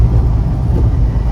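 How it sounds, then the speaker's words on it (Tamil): A Mahindra Bolero BS4 engine pulling from third gear, a steady close low engine drone with rough rumbling texture throughout a short burst. "அதே மாதிரி நான் இப்போ 3rd கியர்லேருந்து உங்களுக்கு ஃபூட்டை போடுறேன்."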